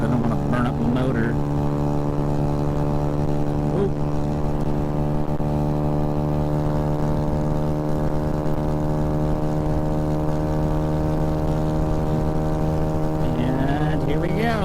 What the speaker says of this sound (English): Let's see if we can achieve some higher speeds today with less RPM.